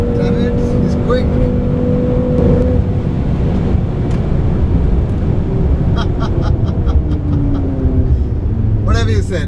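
A BMW M6 roars hard under acceleration during a drag race on an airstrip, its engine noise loud and steady throughout while voices shout excitedly over it.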